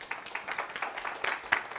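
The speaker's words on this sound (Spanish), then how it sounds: "démele un aplauso a todos estos niños preciosos" A church congregation applauds a group of children, giving a short burst of fairly faint, brisk, uneven clapping.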